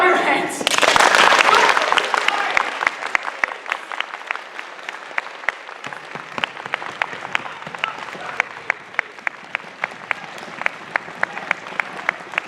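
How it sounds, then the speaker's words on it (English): A theatre audience at a Peter Pan stage production bursts into loud, dense clapping that thins over several seconds into a steady, rhythmic unison clap continuing to the end. "If you believe, clap your hands."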